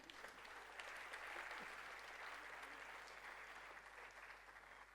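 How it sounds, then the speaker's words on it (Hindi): An audience at a centennial celebration honoring Ustad Bismillah Khan applauds to welcome Hema Malini: a faint, distant, unbroken sheet of clapping that holds steady throughout without any speech. "जोरदार तालियों से स्वागत।"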